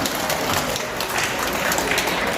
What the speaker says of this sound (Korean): 네, 굉장히 큰 박수로 모시겠습니다.